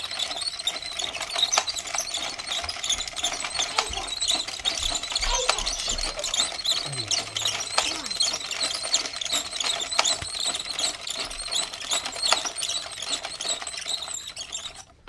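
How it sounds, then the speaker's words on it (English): A 22-pin circular knitting machine is cranked steadily and continuously for many rounds, giving a close, busy whirring and clicking texture with light mechanical squeaks and no talking. "Go ahead and start cranking, and I'll meet you when we're done with the 42 rounds."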